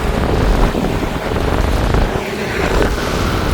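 Strong wind buffeting the microphone with surging waves on an island where houses and streets are flooded; loud, roaring and continuous, with heavy low rumbling gusts throughout.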